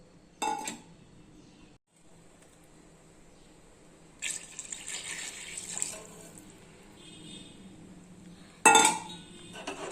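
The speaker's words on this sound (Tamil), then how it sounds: "இன்னும் ஒரு கப்பு தண்ணி ஊற்றிக்கலாம்" Water splashes and pours into a metal pot of cooking chicken biryani in a few separate bursts, with light clinks of utensils between pours.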